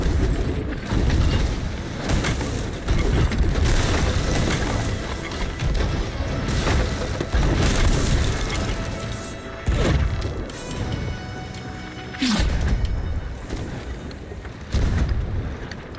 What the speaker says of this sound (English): Shooting in a galleon. That is the cannons.